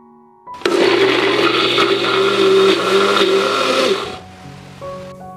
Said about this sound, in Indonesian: Sekarang kita akan blender bumbunya sampai benar-benar halus ya.